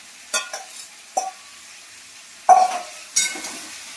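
Boiled potatoes and paneer stir-fried in a pan for spicy aloo dum, giving a few short, close scraping and sizzling bursts separated by brief pauses, with no talking.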